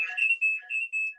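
A mobile phone alarm or ringtone going off, a bright electronic tone pulsing in short repeated beeps, close and loud, alone without talk.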